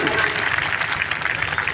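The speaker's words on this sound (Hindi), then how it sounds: "श्री विजय राजभर जी के लिए जोरदार ताली बजा करके स्वागत करेंगे" An audience at a Suheldev Jayanti gathering applauding to welcome Vijay Rajbhar, producing a dense, steady wash of clapping that holds throughout.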